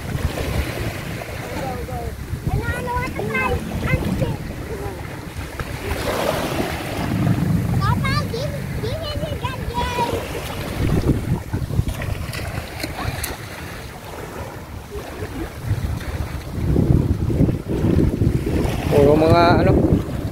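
Wind and waves rolling in at a beach bay on Saipan, a steady broadband rush with gusts buffeting the microphone, joined by intermittent speech.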